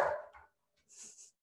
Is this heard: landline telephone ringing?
no